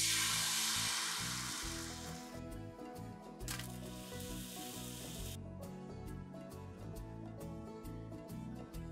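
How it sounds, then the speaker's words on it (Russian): Pancake batter on a dry frying pan gives off a loud, hissing sizzle that gradually settles into a softer crackle, with light clinks as the pan is handled. "жарим оладушки на сухой сковороде"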